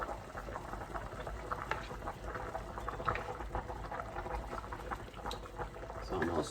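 Shrimp pasta sauce with parsley and green onions bubbling in a pot on the stove: a soft, steady, faint simmer of small pops and gurgles that runs without pause.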